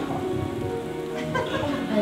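Rain falls steadily as a soft, dense patter that continues beneath people talking.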